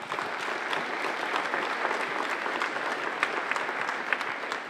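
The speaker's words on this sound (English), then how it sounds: "I'd like a round of applause for them," Audience applause for the venue staff at a four-wall handball final, a dense, steady wash of many hands clapping with scattered sharper claps, continuous and fairly loud.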